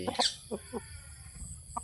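A few short, soft clucks from Thai game chickens (Thai, Koi and Ngon breeds) come in scattered bursts, fairly quiet against a calm background.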